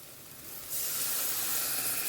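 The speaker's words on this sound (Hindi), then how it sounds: "अब इसमें थोड़ा सा पानी डालते हैं।" Half a cup of vegetable-boiling water poured into a hot pan of pav bhaji, a soft hiss that jumps to a loud steady sizzle partway through and then holds, with no talking.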